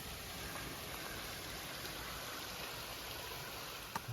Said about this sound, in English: This is the big waterfall on the way to Lion's Head